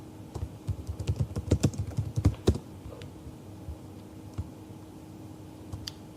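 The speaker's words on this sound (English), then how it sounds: "Let's type in picnic table." Keys on a computer keyboard clatter in a quick run of close taps as a short title is typed, then fade to a few scattered clicks over a faint steady hum.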